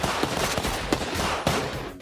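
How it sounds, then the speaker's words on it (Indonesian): Rapid gunfire exchange between a lone fighter and Yakuza in a Japanese action film, dense broadband cracks and bursts layered over a constant loud roar, with sharper shots standing out at irregular intervals. "Setelah itu terjadi baku tembak antara Takeru dan para Yakuza itu."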